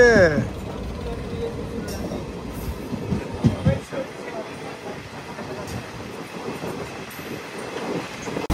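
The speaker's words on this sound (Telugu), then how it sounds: "కాట్రా నుంచి తిరునెల్వేలి వెళ్ళే ట్రైన్" The Katra to Tirunelveli express rolls past with rumbling wheels and rhythmic clacks, loud and near at first before easing into a lighter rattle, with people talking through it.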